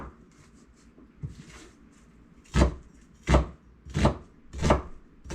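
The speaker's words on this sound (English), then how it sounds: "Start by cutting up our onions." Onions chopped with a knife on a board for chili: after a quiet start, four firm, evenly spaced thuds land close and clear, with no talking.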